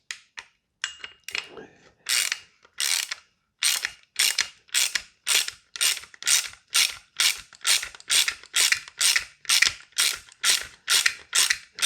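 A ratcheting tool clicks in quick, even bursts while tightening down a part on an Airtac HYP-9 HPA airsoft receiver, close and loud, with steady repeated strokes after a few hesitant starts.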